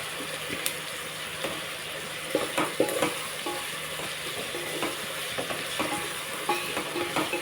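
Curry sizzles and fries steadily in a pan, a continuous hiss broken by occasional stirring taps and small pops.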